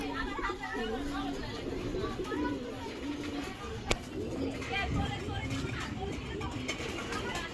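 Pigeons at a racing pigeon farm coo and murmur steadily throughout, a soft continuous flock chatter with one brief sharp knock partway through, while someone talks over it.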